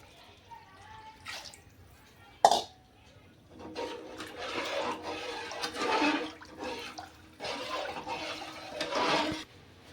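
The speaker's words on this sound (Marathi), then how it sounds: "मी टाकते साधं पाणी" Plain water is poured into a cooking pot of chana dal amti in several uneven bursts, splashing and gurgling nearby, with short pauses between pours.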